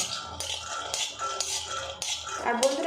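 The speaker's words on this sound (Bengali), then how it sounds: "শুকনো কড়াতে কাঁচা লঙ্কা বাদামটা একটু ভাজা ভাজা করে নেব" Peanuts and green chilies are dry-roasted in a wok, with a utensil scraping and clattering against the pan in irregular bursts, close and fairly loud.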